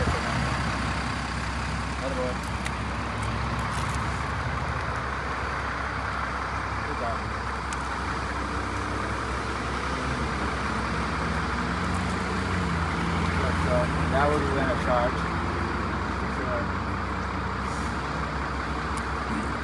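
Steady road traffic rumbles throughout, with cars and heavier vehicles passing at moderate distance as a continuous wash of engine and tire noise while a person walks a dog beside the road.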